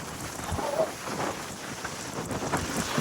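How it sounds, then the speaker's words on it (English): Strong wind blows steadily outdoors in Kaohsiung, Taiwan, a broad continuous rush with gusty swells buffeting the microphone, filling the scene with no voices. "This is some serious wind, people."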